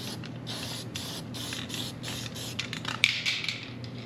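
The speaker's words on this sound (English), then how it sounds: "Spray a little weld through on this." Weld-through primer hissing from an aerosol can onto a rusty panel of a 1970 Chevelle under restoration, several short bursts in a row in a quiet shop, followed by a faint click and rattle.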